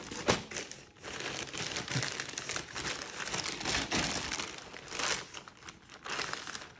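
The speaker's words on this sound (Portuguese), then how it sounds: "Vou pegar aqui meu canivete de unboxing e vamos abrir esse envelope." An unboxing knife cuts open a plastic mailer envelope holding a JanSport backpack, making continuous close crinkling and rustling with sharper crackles and tearing bursts throughout.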